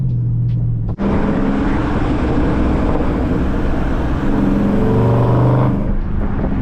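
A 392 Scat Pack's exhaust idles and blips close by, with a steady loud rumble broken by a sharp cut near the start and brief popping bursts toward the end.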